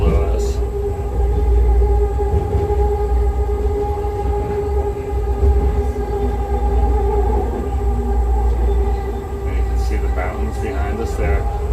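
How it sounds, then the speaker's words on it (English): An outbound commuter train passes near Vancouver's Chinatown, heard from aboard an inbound train bound for Waterfront Station. A continuous, fairly loud rail rumble fills the whole stretch, with faint higher squeals toward the end. "There's the outbound train."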